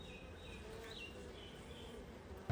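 Honey bees buzz steadily at an open beehive, forming a continuous low drone with faint higher whines and no voices.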